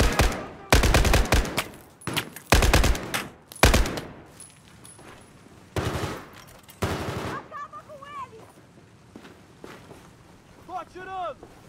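Battlefield 4 gunfire, loud automatic bursts in quick clusters up front, then fading to sparser distant shots with wind and calls, voices shouting briefly in between.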